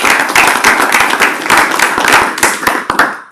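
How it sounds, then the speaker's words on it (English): Audience at a scholarship award event claps in a dense, continuous round of applause, sharp individual claps standing out before it thins toward the end. "So let's give Kristen, Jill, and the scholarship support team a great big round of applause."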